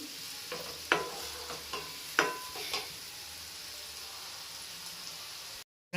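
Medium onion paste sizzles gently in hot oil, a low steady fry with a few distinct stirring knocks and scrapes of a spoon against the pan, ending in a brief silence.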